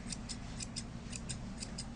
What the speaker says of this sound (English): If you're working with straight scissors, do your straight scissors.